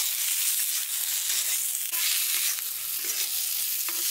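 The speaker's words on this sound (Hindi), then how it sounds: "अब आलुओं को हम 3-4 मिनट तक अच्छा से भूनेंगे लो फ्लेम पे" Diced potatoes (kachalu) pan-frying on a low flame, a steady broadband sizzle with a few soft stirring scrapes, close and continuous with no talking.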